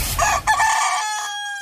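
A rooster crows once, loud and close, in a full cock-a-doodle-doo whose drawn-out final note tapers off, heard alone with no talk.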